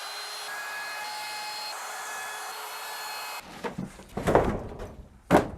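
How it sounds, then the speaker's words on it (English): A router cuts into a reclaimed timber router table top, a loud steady high whine that stops abruptly, followed by close wooden clunks and bumps as the piece is handled. "Time to route the router table."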